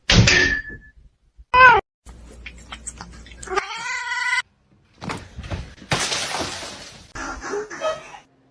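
A male house cat meows loudly several times, the drawn-out cries coming in separate bursts between knocks and clattering thumps, with faint voices in the background.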